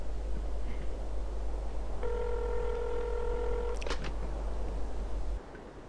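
A telephone number punched in on a keypad in the video game Traumfänger: a steady string of clear dialing tones followed by a short click, heard over a constant low hum with no talk.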